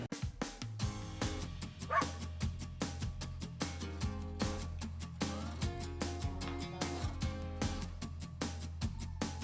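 Therapy dogs visiting a care facility for people with disabilities bark and yip in short, repeated bursts over a layer of background music.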